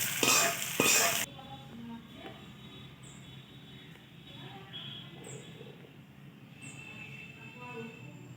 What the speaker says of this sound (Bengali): ফোড়নটা আমি এবার ডালের মধ্যে ঢেলে দেবো।